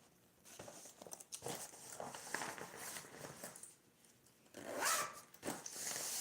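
A gold zipper on a gray lined bag being worked open or shut, with several short scratchy zipping runs and rustles broken by brief pauses, close and fairly quiet.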